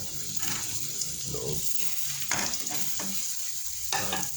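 Food frying in oil in a farm kitchen pan, a steady close sizzle with occasional stirring scrapes and a few brief clatters, alone without talk.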